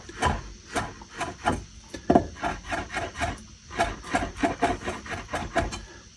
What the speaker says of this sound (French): Maintenant le persil, on va faire un truc simple. Je vais simplement le ciseler.